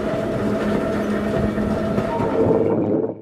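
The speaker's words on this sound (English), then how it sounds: "as the train exits the north portal and re-enters the double track" A Northwestern Pacific interurban electric train in Marin County rumbles steadily out of a tunnel's north portal onto double track, with wheel clatter and a loud, continuous roar that fades away at the end.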